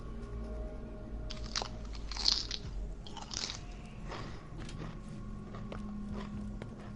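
Crunching chips in Borderlands 2, a run of crisp, brittle bites with a few louder crunches, close and dry over a low steady game background.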